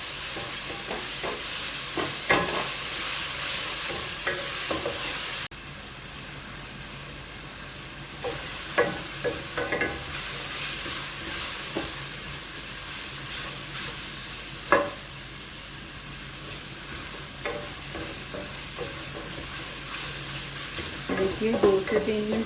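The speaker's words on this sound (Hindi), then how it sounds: "लहसुन की पेस्ट को हमने अच्छे से भून लिया है।" Garlic ginger paste fries loudly in a pan on full heat, a steady broad sizzle with scattered scraping knocks of a spoon stirring throughout, no talking.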